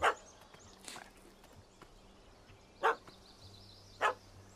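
In The Witcher 3 video game, a dog barks at a cat up a tree: four sharp, separate barks spaced irregularly over a quiet ambient background.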